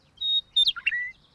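A little bird in a cartoon sings loudly, a short bright phrase of high whistled chirps: a held tone, a quick cluster of twittering notes, then a falling trill, close and clear against silence.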